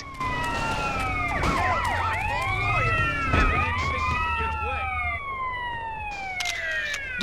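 Several police car sirens wail and overlap in GTA San Andreas, rising and falling continuously and fairly loud, with engine noise underneath and a brief thud midway.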